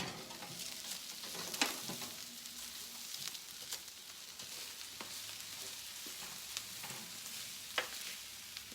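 Brussels sprouts sizzle steadily in a frying pan while being stirred, a soft continuous crackle broken by occasional scraping clicks of the utensil, close but quiet.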